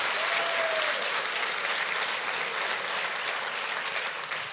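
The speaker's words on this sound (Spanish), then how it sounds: "Dele un fuerte aplauso a Cristo Jesús" A church congregation claps loudly during a Sunday morning worship service, with dense, steady applause filling the room throughout at a constant level.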